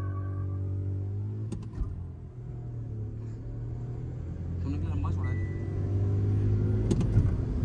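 Tuned Skoda Slavia sedan and Kushaq SUV, both 1.0L, accelerating side by side in a drag race, a steady loud engine drone heard from inside or close by while someone commentates over it.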